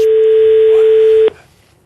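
A single steady electronic telephone ring tone sounds loudly for about a second, then cuts off abruptly into quiet.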